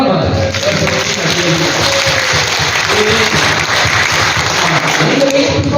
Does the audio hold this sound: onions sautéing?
no